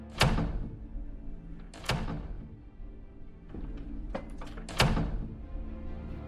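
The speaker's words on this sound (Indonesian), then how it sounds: "Robert tiba-tiba menghempas-hempaskan pintu itu sebanyak 3 kali." A door in a film is slammed hard three times, each a loud close thud with a sharp crack, spaced about a second or two apart against a quiet room background.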